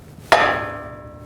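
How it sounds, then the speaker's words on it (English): A hammer strikes a tie rod stud on a 2011-2014 Chrysler 200 during outer tie rod replacement, one sharp metallic blow that rings out and fades over about a second, close and loud. "I'm going to take a hammer and just push the stud right up."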